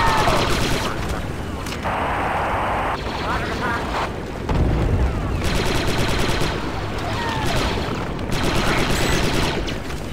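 An explosive charge detonates in Star Wars: Republic Commando on Geonosis, a loud sustained blast and rumble mixed with rapid gunfire and battle noise, with voices briefly heard over the din.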